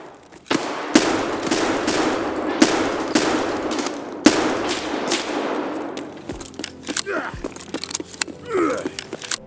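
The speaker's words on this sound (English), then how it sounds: "I wait until they start firing to peek" Bursts of automatic gunfire in the shooter game Escape from Tarkov, several loud sustained volleys for the first six seconds, then sparser, fainter single shots and clatter.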